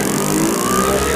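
A C90-type pit bike engine on a CDI unit is kicked over on full advance, a brief loud, rough mechanical churning burst heard up close with no talk.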